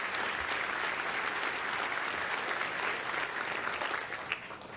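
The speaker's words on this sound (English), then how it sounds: "I think those numbers are certainly worth another round of applause to the class of 2024." Sustained applause from an audience at a high school senior awards night honoring the class of 2024, dense and steady throughout before easing slightly at the end.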